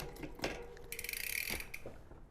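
A Shimano clutch-type bicycle derailleur shifting into its highest gear: a close mechanical clicking and ratcheting, a short buzzing whir of the chain moving across the cogs, then a quieter tick.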